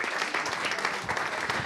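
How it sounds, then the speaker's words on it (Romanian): A television studio audience applauds a dance group's choreography with brisk, dense clapping that holds steady and loud throughout the short burst. "Veniți încoace să vă aplaudăm cu adevărat Unodance pentru coreografia excepțională!"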